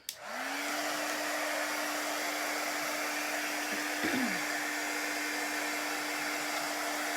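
A hair dryer blows steadily on chalk paint, switching on with a sharp start and holding a constant loud whirring hum with a slight wobble in pitch partway through, no voices over it.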